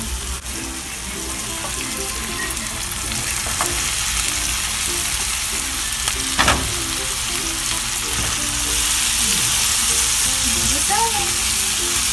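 Tomato fries in a pan with a steady, loud sizzle that runs throughout, broken by occasional clatters of stirring and utensil knocks.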